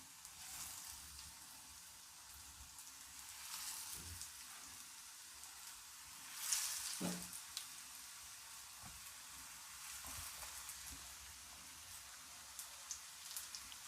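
Chickpea cutlets frying in oil in a pan over a medium flame, giving a soft, steady crackle with scattered faint pops and no one talking.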